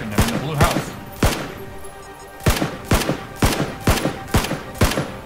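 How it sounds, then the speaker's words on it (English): Gunfire from the video game PlayerUnknown's Battlegrounds, heard as sharp, loud single shots coming in an uneven series. There are about nine reports, spaced irregularly and punctuated by short pauses, and no voices can be heard. "those guys are shooting them in the blue house"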